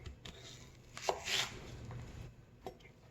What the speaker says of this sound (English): Okay, let's chop it.